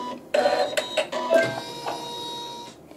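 A sewing machine tacks down a fabric edge while stitching a quilt section, a close, steady mechanical whir with a brief burst of rapid stitching that then settles into a quieter hum.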